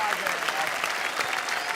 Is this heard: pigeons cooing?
no